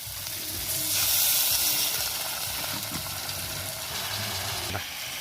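Water poured into a pan of frying spiced paneer and potato at a rainy campsite, a broad steady sizzle and steam hiss swelling loudly near the start and then settling into continuous close frying crackle.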